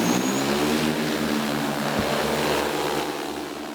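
An agricultural drone spraying herbicide over a field, a loud steady propeller whine with layered harmonic buzz, close and continuous throughout.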